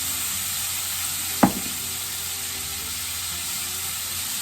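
Burger patties with Worcestershire sauce frying in a pan, giving a steady, even sizzle throughout, broken once by a brief utensil clink near the start.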